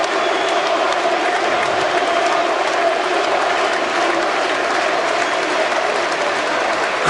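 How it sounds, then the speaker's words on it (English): Arena crowd at a UFC fight cheers and applauds in a dense, steady roar that fills the whole stretch, loud and unbroken, with no clear single voices standing out. "Cries of Mirko ring around the Turon Arena. Very happy crowd to see him back."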